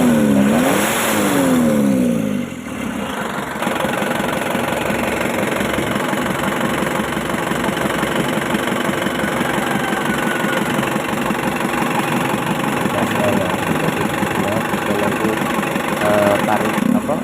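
An Isuzu Elf diesel engine runs steadily with a rough, clattering idle and rises in revs during tuning, loud and continuous, with someone talking over it.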